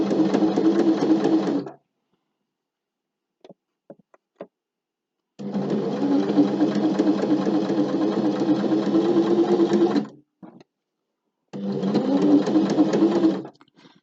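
A sewing machine stitches an invisible zip in three bursts of rapid, close, mechanical whirring, separated by short pauses with faint clicks and handling noises.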